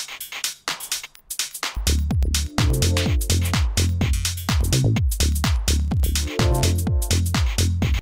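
Punchy electronic house music chords pulse in a steady four-on-the-floor rhythm, quiet at first and then swelling louder and denser as a compressor on a return channel is raised, with a heavy, compressed low end.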